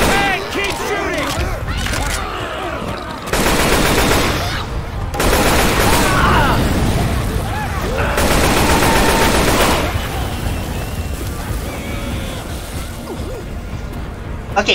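Rapid bursts of gunfire from the Left 4 Dead 2 zombie shooter, loud and sustained across the scene, with shouted voices from players talking over the shooting.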